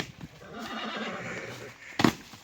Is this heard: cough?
no